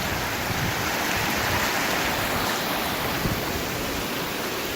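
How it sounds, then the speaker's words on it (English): Snowmelt creek on a hiking trail in Colorado's Indian Peaks Wilderness, rushing as a steady, loud broadband wash that stays even throughout, close at hand, with no talking. "Crossing a creek now."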